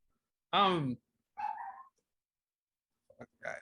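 A tiny dog on a beach gives a few short high yaps, one sharper bark followed by softer yips spaced apart, fairly near with quiet gaps between.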